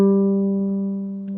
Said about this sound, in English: since I've got a low G, mine sounds like this